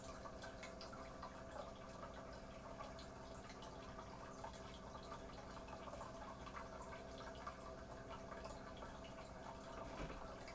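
An aquarium filter runs in a tank with a low water level, giving a faint, continuous watery trickle and drip with a low steady hum underneath.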